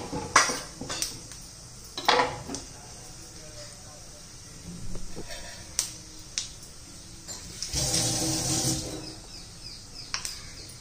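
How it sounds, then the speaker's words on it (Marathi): Cumin and mustard seeds crackling in hot oil in a pan, with scattered sharp pops and a brief burst of sizzling, close by in a quiet kitchen. "चांगलं तडतड आवाज यायला लागला"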